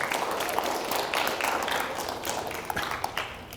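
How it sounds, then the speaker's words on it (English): Applause from an audience at a speech event, a steady wash of many hands clapping, moderately loud and sustained for a few seconds. "let's give another round of applause for Sarah."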